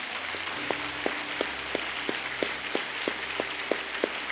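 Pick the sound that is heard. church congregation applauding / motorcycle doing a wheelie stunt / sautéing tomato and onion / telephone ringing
church congregation applauding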